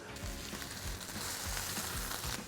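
Monkfish sizzling in a pan with a little butter, a steady, even crackle of frying throughout with occasional soft stirring knocks, no talk.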